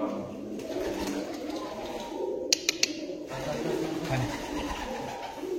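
Racing pigeons coo softly in a loft, a low, murmuring chorus with a few sharp clicks partway through and quiet talk underneath.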